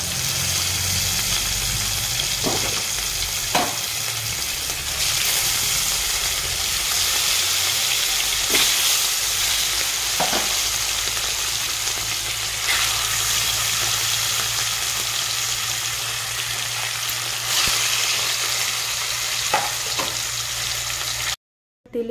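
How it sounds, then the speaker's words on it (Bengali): Rohu fish pieces frying in hot oil for a Bengali curry, giving a continuous loud sizzling hiss with occasional sharper pops and spatters, steady throughout and ending abruptly. "বাকি মাছগুলো আমি ভেজে তুলে নেব।"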